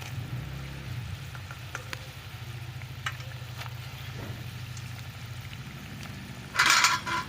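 Bhola fish curry (tel jhal) bubbles and sizzles on a clay stove with a steady, close simmering crackle, joined near the end by a brief louder burst of splattering.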